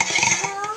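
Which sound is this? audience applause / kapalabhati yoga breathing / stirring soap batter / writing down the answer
stirring soap batter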